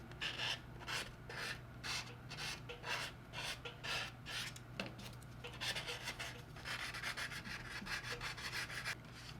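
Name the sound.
sanding plastic with sanding stick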